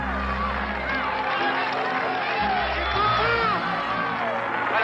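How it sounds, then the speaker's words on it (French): A roaring roadside crowd cheers and whoops continuously as cyclist Raymond Poulidor rides the final metres of a race, dense loud hubbub with shrill whistles and shouts rising throughout. "Entendez, écoutez le public dans les derniers mètres."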